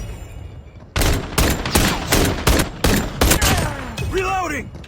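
Pistol fire in the mobile shooter COD Mobile: a rapid series of sharp, loud shots in quick succession, followed by sweeping whistling game effects.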